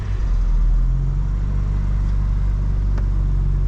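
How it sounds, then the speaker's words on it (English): BMW M4 Competition with a titanium exhaust, heard from inside while driving: a steady, loud low engine and exhaust drone with road rumble, holding an even note throughout. "what you're hearing is the titanium exhaust"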